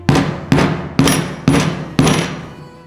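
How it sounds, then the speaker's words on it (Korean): A hammer striking a five-prong leather stitching chisel to punch holes in leather, five sharp, evenly spaced knocks about half a second apart, close and loud with no talking. "구멍의 끝과 치질의 시작 부분을 맞춰서 넣어서 구멍을 다시 뚫겠습니다"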